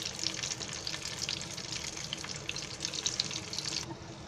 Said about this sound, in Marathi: आता भेंडी सोडले ना तेलामध्ये, पाणी कसं आवाज येतोय